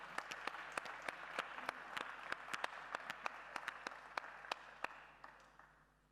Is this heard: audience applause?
yes